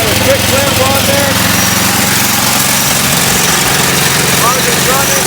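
A Craftsman 9/24 snowblower engine runs at a steady loud drone with the auger spinning, close and continuous throughout.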